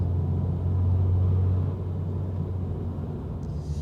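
A steady, low Toyota 86 engine rumble with upgraded intake and exhaust idles on its own, swelling slightly for a moment before settling back to an even drone.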